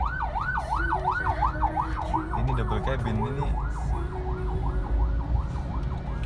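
An ambulance siren wails, rising and falling steadily over traffic rumble in Jember, while a person speaks briefly partway through.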